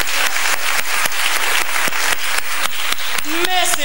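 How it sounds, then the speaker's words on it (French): An audience claps loudly for tap dancers during a live comedy stage show, a dense continuous roar of applause with sharp individual claps, and a brief whistle or cheer rising near the end. "on les applaudit parce qu'ils sont très bons"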